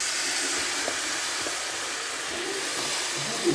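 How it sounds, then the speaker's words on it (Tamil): Marinated mushrooms sautéing in hot oil in a pan for mushroom gravy, an even, continuous hiss and sizzle that holds steady from start to finish with no talk. "இப்போ மேரினேட் பண்ண மஷ்ரூம்ஸை போட்டு நம்ம நல்லா 5 மினிட்ஸ் சாட்டே பண்ணிடுவோம்"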